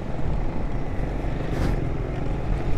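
A CBF vehicle driving past on Malir River Road, heard as a loud, steady engine rumble mixed with dense road noise throughout.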